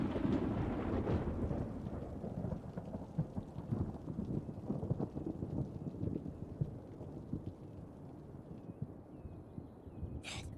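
Rain and rolling thunder from the Cities: Skylines video game: a steady broad wash of rainfall with low rumbles swelling through it, fairly loud and continuous, no voices over it.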